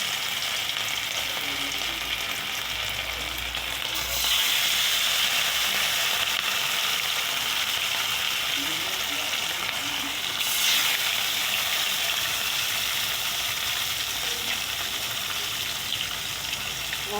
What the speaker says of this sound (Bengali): চলো মাছটা ভাজা কটা হোক।